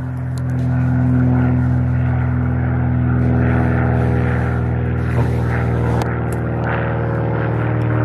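A propeller airplane flies overhead in a rural trapping area, a steady loud droning engine hum with strong low harmonics that holds for the whole span, rising slightly near the start and easing a little toward the end.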